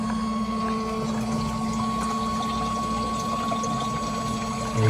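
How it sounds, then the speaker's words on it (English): An electric fresh-water pump in a VW T6 campervan hums steadily as the tap is lifted and water is drawn from the tank, a constant close drone with a faint tonal whine and running water. "So when I lift this up, you'll hear the pump working, drawing water out of this fresh tank"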